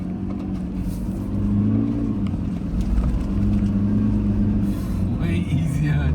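Toyota Hilux Legend 55 pickup pulling away and accelerating on the road, a steady low engine rumble that swells as it gains speed, with a voice talking over it.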